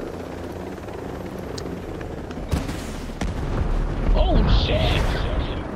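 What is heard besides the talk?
explosion in the video game Ghost Recon Breakpoint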